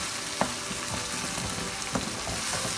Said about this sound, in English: We have to keep sauteed for 2 more minutes